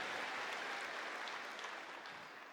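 Faint, distant applause from a theatre crowd at a gathering at the Paramount Theatre in Seattle, a steady wash of clapping throughout.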